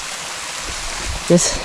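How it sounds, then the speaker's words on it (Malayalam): Steady rushing water from a stream and waterfall along the Agasthyarkoodam trek, a broad continuous wash that fills the short stretch, with a brief spoken word near the end. "ഒരു വെള്ളച്ചാട്ടം അവിടെ കാണാം."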